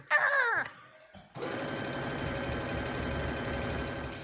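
A sewing machine stitches quilt border strips. A short burst comes first, then a brief pause, and then a steady, close, rapid mechanical whir that continues to the end.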